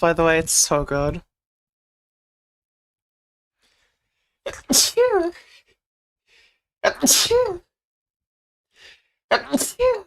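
A few sharp, loud sneezes burst out close to the microphone, separated by silent gaps, with a brief stretch of casual talk in between.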